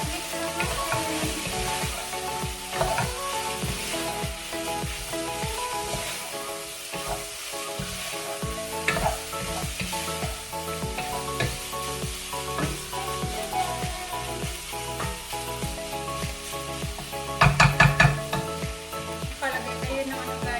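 Garlic, about two tablespoons, sizzles steadily in a hot pan for chicken curry while a spoon stirs through it, with scraping clatters and a louder burst of sizzle toward the end, no talking.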